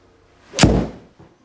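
A single golf shot struck into a Skytrak simulator while playing the WGT golf game lands as a sharp, loud thwack that thuds and fades within half a second, followed by a faint softer tap, with no talking.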